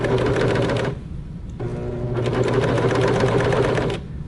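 A serger sewing machine stitches fabric with a loud, fast mechanical whir in two close bursts, a brief pause between them, the second burst running longer, with no voices.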